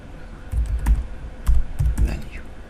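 A few close keystrokes on a computer keyboard while code is typed for React form validation, with sparse clicks and thumps and some breathing or low voice noise.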